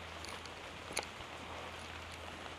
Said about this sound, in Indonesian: Jadi di sini hujan